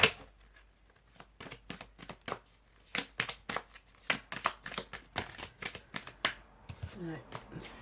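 Oracle cards are shuffled repeatedly up close, a series of quick riffling bursts in an uneven rhythm, with brief pauses between them.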